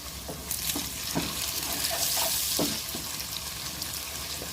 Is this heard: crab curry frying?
yes